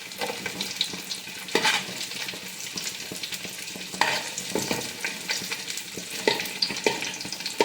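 Raisins fry in a pan of hot fat for biryani, with a continuous sizzle and repeated scraping and stirring knocks from a spoon, close and moderately loud, with no voices.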